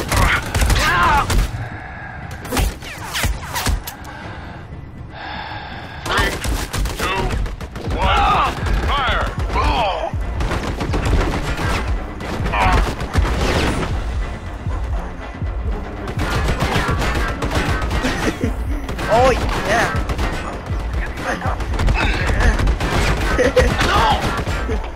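Minigun turret firing in the co-op shooter game Army of Two, with dense sustained bursts of heavy gunfire and mechanical clatter running loud throughout, mixed with game sounds and a voice.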